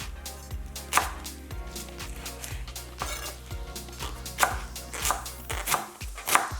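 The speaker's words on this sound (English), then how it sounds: "slice it up." A knife slices through rolled collard greens on a cutting board in a quick, even series of crisp, close chops, with a few louder cuts toward the end. There is no talking.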